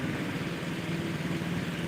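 A bus engine idles with a steady low rumble and hum, continuous and close, with no voices, at the BRPS bus terminal in Pekanbaru.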